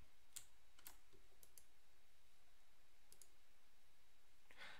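Computer mouse clicking while working in a code editor, a handful of sharp, faint clicks scattered over a quiet background with no talking.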